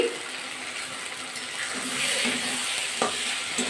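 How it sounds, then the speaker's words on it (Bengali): Green peas being stirred and fried in a pan for a vegetarian cauliflower dish, a soft continuous sizzle with light scraping stir strokes, close and fairly quiet, no voices. "কড়াইশুটিতে কিন্তু আমার নাড়াচাড়া করে নিলাম"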